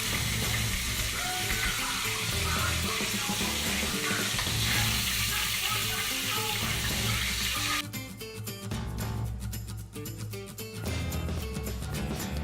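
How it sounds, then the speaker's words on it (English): Country fried chicken sizzling in a pan alongside kale greens, a constant loud crackling fry that suddenly thins into sharper, sparser spattering near the end. "and I have our chicken here frying."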